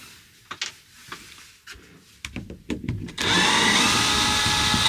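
A power drill driving screws back into a van panel during a van build: a few clicks and handling knocks, then the drill whirs loudly and steadily up close for the last couple of seconds.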